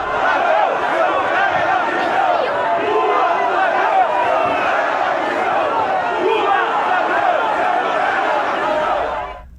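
A crowd boos President Lula as he arrives under heavy security at Pelé's wake on the São Paulo coast, a loud, sustained mass of jeering voices that stays dense the whole time before cutting off at the end.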